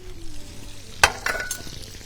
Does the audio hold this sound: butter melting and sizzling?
yes